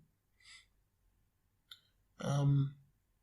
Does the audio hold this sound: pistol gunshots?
no